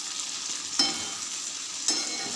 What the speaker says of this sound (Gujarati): સરસ મિક્સ કરી લઈશું